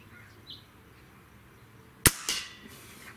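A Hatsan 95 Vortex break-barrel air rifle fires a single sharp, close crack, followed a split second later by a fainter metallic knock as the pellet strikes a can downrange.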